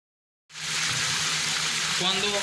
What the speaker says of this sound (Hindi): अब हमने उसी तेल के अंदर चिकन डाला ताकि फ्राई कर सके।